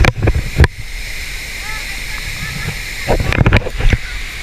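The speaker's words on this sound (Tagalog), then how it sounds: "kahit summer ang lakas ng buhos ng tubig grabe" A huge waterfall in Surigao del Sur pouring heavily even in summer, a continuous broad roar of rushing water with people talking and exclaiming over it at the start and end.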